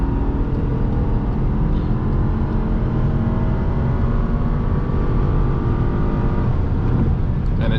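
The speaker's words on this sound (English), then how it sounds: "let's downshift and see how responsive it is" Steady, loud engine drone from inside a moving 2020 VW Passat R-Line sedan, rising slightly in pitch as it pulls under acceleration after a downshift, with road noise throughout.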